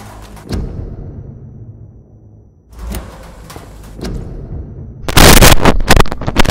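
Gunfire in the video game Vampyr: a dense burst of loud, sharp gunshot blasts near the end, following quieter rumbling game ambience and thuds.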